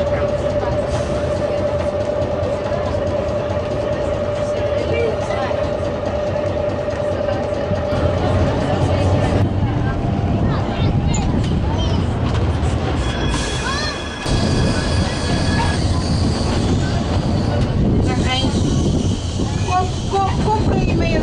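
A Porto heritage tram rumbles along its rails with steady low rolling noise and rattling, joined by faint tonal squeals from the wheels and people talking throughout.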